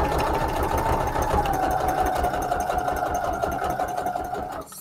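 Sewing machine running steadily while stitching junk journal signatures, a close, continuous mechanical whir and rapid needle clatter that holds an even pace before stopping abruptly at the end.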